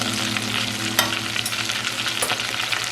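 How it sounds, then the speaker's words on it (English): Potato balls frying in oil, a close, continuous crackling sizzle with a couple of sharper pops, no voices. "we'll just let them fry for about a minute on this side"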